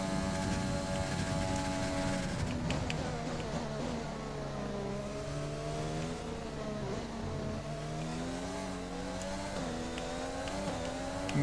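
A Formula 1 race car engine in the F1 2020 video game howls steadily at high revs, its pitch rising and dipping through gear changes, with other cars' engines mixed in, no talking.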